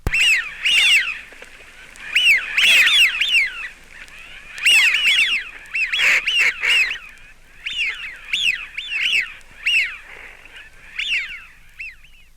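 Wigeon at a winter reservoir near London, drakes giving repeated slurred whistles in bursts, some overlapping, with softer growling calls between, fairly close and clear.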